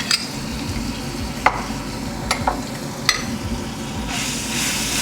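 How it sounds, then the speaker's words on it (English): Garlic paste frying in a pan for a fish curry, a steady close sizzle with a few clicks and scrapes from the spoon, and the hiss swells toward the end. "We're going to fry garlic paste a little bit"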